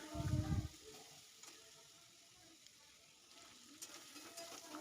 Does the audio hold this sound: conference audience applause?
no